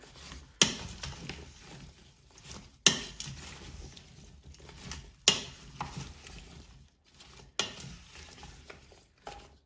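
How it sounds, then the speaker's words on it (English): A spoon stirring seasoned vegetable stock made from vegetable scraps in an Instant Pot, with a few sharp knocks against the inner pot every couple of seconds and soft scraping and sloshing between them. "Now you want to be giving it another stir to get that seasoning around."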